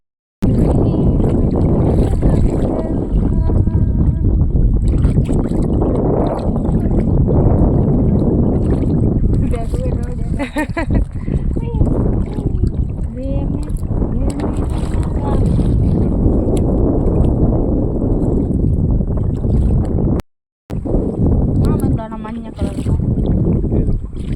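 A small wooden country boat is rowed across open water in the wind, with constant wind rumble, water and hull noise throughout and people talking over it.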